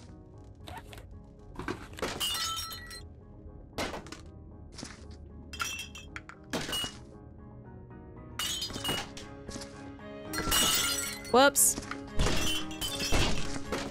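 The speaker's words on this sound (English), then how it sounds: "crunchy glass sure feels good on my booted feet" Boots crunch over broken glass in the first-person cleanup game Viscera Cleanup Detail, a run of sharp clinks, crackles and scattered thuds spread across the stretch, with a brief spoken word in the middle.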